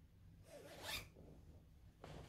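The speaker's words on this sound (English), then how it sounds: "So now when you zip this up" A zipper on a sewn garment is drawn up in a quick, soft, scratchy rasp near the microphone, followed a moment later by a second brief zip sound in a quiet room.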